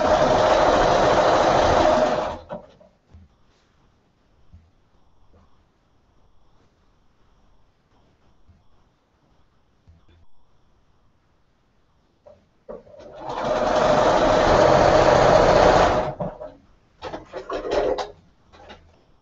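A Bernina sewing machine stitches quilt pieces in two loud, steady bursts, about two and three seconds long, separated by a long quiet stretch with faint handling clicks and then a few short stutters of stitching at the end.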